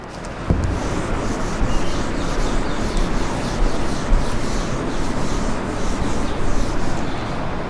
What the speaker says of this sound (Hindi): मैं इसको रब करता हूं।